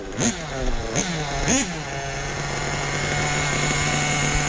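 Hobao Hyper VS2 nitro RC car engine idling high during break-in, a steady buzzing drone with three short revving blips at the start, then an even sustained idle.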